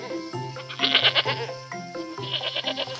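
A little goat bleats in an animated story, several short wavering bleats close up one after another, loud and alone.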